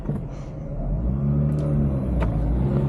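2007 Mazda RX8 rotary engine revving hard while driving, a loud, steady high-pitched whir that swells and holds throughout, with no talking.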